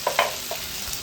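Garlic paste fries in a pan with capsicum and tomato; a couple of quick stirring scrapes sit over a faint, continuous sizzle.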